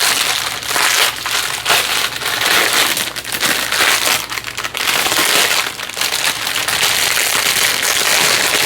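A plastic bag of diamond art drills torn open by hand: close, loud crinkling and crackling of plastic in irregular bursts, continuous throughout.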